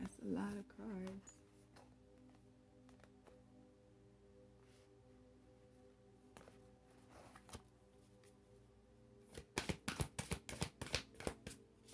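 Tarot cards are pulled and shuffled close by: faint handling rustles follow a brief voice at the start, then a rapid, crisp riffling burst of shuffling comes near the end.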